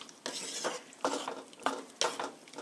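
Pasta is stirred in a pot with a tablespoon of olive oil, a utensil scraping and clinking against the pot in four rhythmic, close strokes about a second apart.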